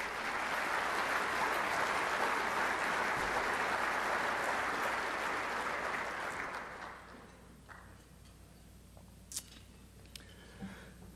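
A crowd at a city's State of the City address gives broad, steady applause for several seconds. It then tapers off into a quiet room with a few scattered sounds.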